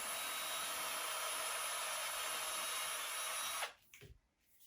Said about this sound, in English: So we're going to drill a hole right about in the middle